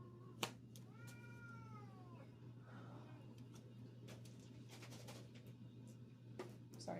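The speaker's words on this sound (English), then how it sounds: "my cats were trying to fight back there." Two house cats squabble indoors, with several rising and falling meows and yowls over a steady low hum and scattered knocks and clicks. The sounds are fairly faint and nobody talks.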